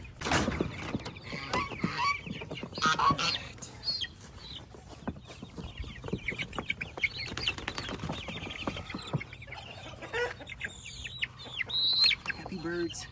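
Geese honk and call among their goslings on a farm with chickens, giving a busy run of loud, close, overlapping honks and clucks, while a person talks at times.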